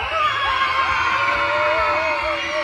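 A crowd of children screams and shouts together like excited fans at a Disneyland summer show, a continuous, loud mass of high voices without a break.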